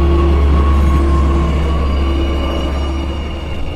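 A train passing close by, a loud steady low rumble and rolling drone that fades slowly toward the end, with no voices over it.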